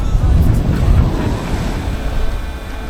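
Ocean waves wash over the top of a mound at high tide near Broome, a loud rushing surge of surf heavy with wind buffeting the microphone, easing slightly after the first second.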